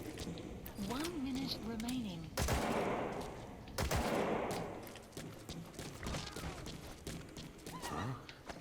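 Gunfire in Metal Gear Solid Online (2015) crackles as a few sharp broadband bursts over busy game noise, with a voice faintly present in the mix.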